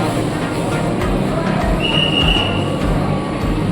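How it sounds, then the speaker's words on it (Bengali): A Vande Bharat train at Shri Mata Vaishno Devi Katra station gives a loud, steady rumble with a brief high metallic squeal, heard close by on the platform. "এই আমাদের বন্দে ভারত ট্রেন"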